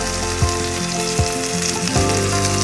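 Tomato masala frying in a pan over a medium flame, giving a steady, close sizzle with a few soft stirring scrapes and no talk.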